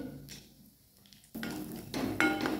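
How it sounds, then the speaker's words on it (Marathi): Chopped almond pieces drop into ghee in a pan with clinks of metal utensils against the pan, short clattering bursts and stirring sounds close by, and no strong sizzle. "आपलं बदाम तुकडे केलेले ते टाकायचे तुपामध्ये"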